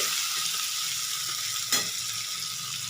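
Garlic frying in a little katla fish oil in a pan, a steady broad sizzle with one brief louder crackle midway, close and continuous with no talk.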